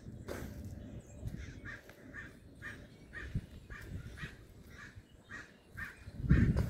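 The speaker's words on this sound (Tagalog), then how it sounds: "Yan, may mga ibon." A bird calls over and over in a steady series of harsh caws, a little distant, over rushing wind noise.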